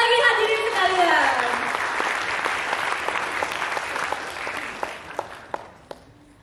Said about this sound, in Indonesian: boleh tepuk tangan sekali lagi hadirin sekalian